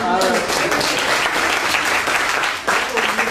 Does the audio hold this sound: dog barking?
no